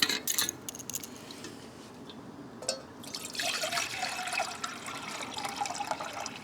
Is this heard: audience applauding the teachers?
no